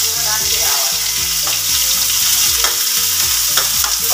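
Chopped onions for momos fry with a steady loud sizzle in a hot pan, a spoon or spatula scraping and stirring them in repeated strokes throughout, with no voices.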